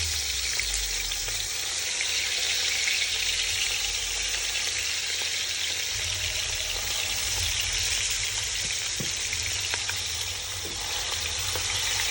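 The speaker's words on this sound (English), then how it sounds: "we're gonna start frying down some chicken that we seasoned up straight in the grease" Seasoned chicken frying in grease for a simple gumbo, giving a steady, dense sizzle that holds evenly close by, with occasional faint clinks and no talking.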